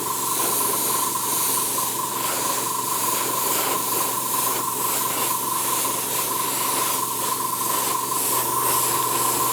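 Airbrush spraying paint onto a scale model's tiger-stripe stencil, a steady close hiss of compressed air holding evenly for the whole stretch with no talk.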